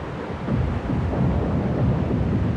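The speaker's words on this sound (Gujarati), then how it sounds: "ભયાનક તોફાન આવ્યું વીજળી ચમકી વરસાદ પણ શરૂ થયો" Cartoon-style thunderstorm effect with rumbling thunder and steady rain, a dense, loud low roar that swells slightly and holds throughout without any voices.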